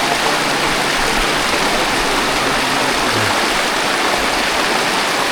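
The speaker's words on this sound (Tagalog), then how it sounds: "may ilog at malakas ang agos, malalim pala" A strong, deep river current rushes steadily at a crossing on a hard rural trail, a loud, continuous broadband roar close by with no talk.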